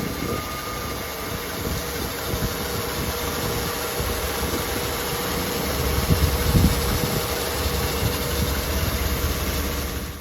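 An old Mercedes-Benz engine, from the 1970 to 1995 era, runs at a steady idle with a continuous low rumble that swells slightly in loudness midway through, no voices present.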